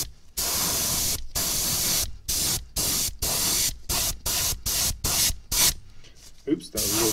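Black spray paint hissing from an aerosol can onto fishing jig heads in short bursts, about a dozen close, loud sprays separated by brief silences, the later bursts shorter and choppier.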